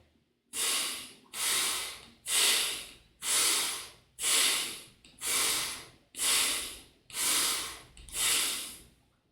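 Forceful rhythmic breathing during an abdominal breathing exercise, nine strong hissing breaths at a steady pace of about one per second, close and loud, with no talking between them.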